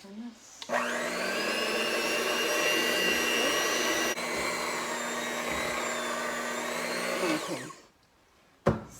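A kitchen stand mixer works a heavy baking dough with a loud, strained whine, steady for several seconds before spinning down and stopping; a voice speaks briefly near the end.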